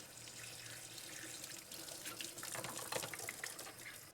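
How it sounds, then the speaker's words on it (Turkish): Steady stream of water poured through the filter hole of a dishwasher and running out, a soft continuous splashing and trickling close by, without speech. "Evet içindeki çöpleri çıkarmak için şuradan deliğinden su doldurun. Buradan zaten su akacaktır"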